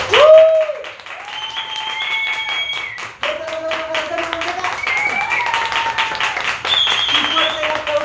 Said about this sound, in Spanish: Un fuerte aplauso para Cata.